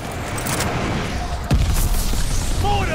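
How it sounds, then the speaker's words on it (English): Dive bomb explosion in Call of Duty: Vanguard, a sudden deep boom at mid-clip over a dense, continuous battlefield din of gunfire and rumble, with faint whistling tones afterward. "Friendly dive bomb incoming."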